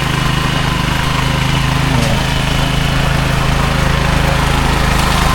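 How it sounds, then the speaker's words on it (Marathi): A machine churns mud in a rain-soaked paddy field in a Konkan village, its engine holding a steady, close, continuous drone with a low throb from start to finish. "चिखल करत आहे मशीन"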